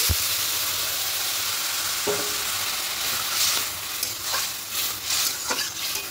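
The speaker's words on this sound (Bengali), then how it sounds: "এবার এখানে জলটা দিয়ে দেবো, এটা গরম জল দিচ্ছি" Hot water poured into a pan of fried broken wheat (dalia): a steady sizzle that swells midway into louder bursts of hissing and spattering, with occasional knocks against the pan, heard up close.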